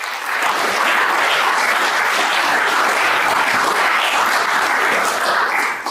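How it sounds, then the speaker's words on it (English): Audience applause at the ASA 2022 conference, a dense, steady crowd of clapping hands that swells quickly, holds for several seconds without a break and fades at the end. "give these people a round of applause for their longstanding faithfulness to the ASA"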